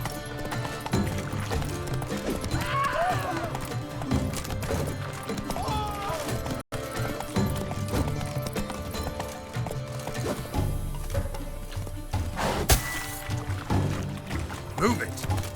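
A horse galloping in The Witcher 3: Blood and Wine, with rhythmic hoofbeats clip-clopping throughout, an occasional whinny and splashing, while a rider speaks over it.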